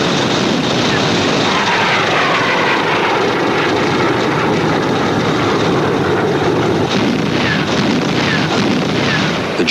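Military aircraft engines over the Battle of Berlin drone in a loud, continuous roar, with a dense rumble that holds steady throughout and no clear break.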